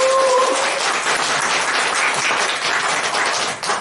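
Audience applause after a company presentation and vision talk at a business event, a dense, steady wash of clapping filling the whole stretch without pause.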